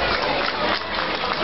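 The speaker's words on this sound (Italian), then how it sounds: "Applauso e urla." Dense applause mixed with shouting from a large crowd at a village festival for emigrants as a mayor takes the stage, a steady roar of clapping throughout with no distinct speech.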